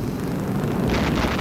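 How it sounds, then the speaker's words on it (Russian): Naval gunfire aimed at a destroyer during a sea battle, a dense, sustained roar of blasts and rumbling booms with a brighter burst of cannon fire near the end. "Огонь по миноносцу!"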